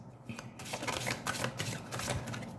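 A deck of Egyptian oracle cards is shuffled continuously at close range, a dense steady rustle of sliding and flicking cards with no speech.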